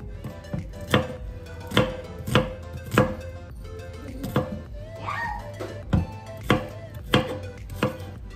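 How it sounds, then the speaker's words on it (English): A knife chops food on a board for cheeseburger wraps in a steady run of close, sharp thuds, about two strokes per second, with a faint background hum between cuts. "I'm just trying to hurry up and cut it because it is getting a little late."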